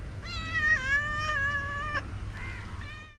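A cat gives a long, drawn-out meow, fairly close and clear, followed by a shorter second call, set against a faint low outdoor hum.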